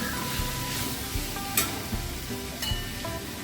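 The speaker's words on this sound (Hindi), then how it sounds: "सिर्फ हमने हल्दी और जीरे और सौंफ में तड़का लगाया है।" Bitter gourd sizzles and fries in a tempering of turmeric, cumin and fennel, a steady close crackle with a few soft stirring scrapes and no talk.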